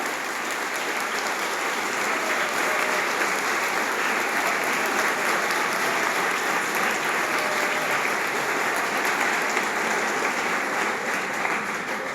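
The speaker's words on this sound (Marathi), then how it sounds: "माझं भाषण आवडलं असेल तर जोरानं टाळ्या वाजवा" A large audience claps loudly and steadily after a speech, a dense, sustained wash of applause lasting the whole stretch with no talking over it.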